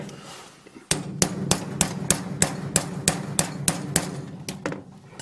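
Roughly a dozen sharp, evenly spaced metallic hammer taps on a large bolt in a workshop press, driving out the LPG filter of a BRC system on a Chevrolet Aveo, ringing close and loud over a low hum.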